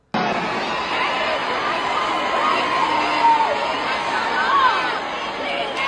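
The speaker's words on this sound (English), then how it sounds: "and the crowd continue to talk." A large studio audience keeps up a constant babble of overlapping chatter and shouts during a moment of silence, with occasional whoops rising above the din.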